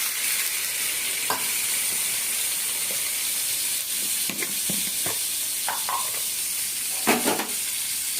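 Drumstick (moringa) pods frying in a pan with asafoetida and turmeric as water is added, giving a steady steam hiss and sizzle with a few louder splashing bursts and stirring clatters near the end.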